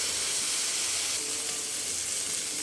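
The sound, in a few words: spices frying and sizzling in a pan with water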